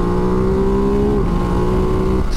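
Steady engine roar of a Ducati DesertX V-twin motorcycle under acceleration, heard from the rider's seat, with a firm harmonic drone that rises slightly over a couple of seconds amid rushing wind noise.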